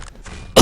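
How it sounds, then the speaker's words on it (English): A single harsh cough from a commentator casting a Quake match, loud and close, preceded by a brief throaty rasp. "My cough still tickling my throat."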